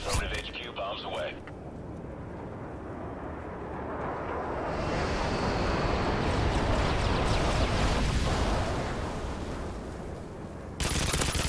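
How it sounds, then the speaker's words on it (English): Stealth airstrike bomb run in the Call of Duty MW3 video game, with a loud, sustained rumbling roar of explosions and gunfire that swells over several seconds, mixed with a radio voice. "Nighthawk, you are cleared for bomb run on grid. Affirmative, HQ bombs away."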